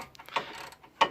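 A socket ratchet tightens brake caliper bolts on a Mercedes A-Class, giving a few quick, close clicking bursts in a short run, with no talk over it.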